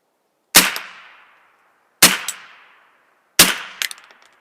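Three separate rifle shots from a Remington 552 Speedmaster semi-automatic rimfire firing subsonic .22 Long Rifle, each a sharp crack with a short ringing decay, spaced about 1.5 seconds apart, the last followed by quick metallic clicks.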